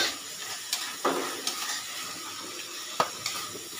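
Spices with Kashmiri chili powder fry in a pan for chicken bhapa rolls, giving a steady close sizzle with a few sharp clinks and scrapes of a stirring utensil against the pan.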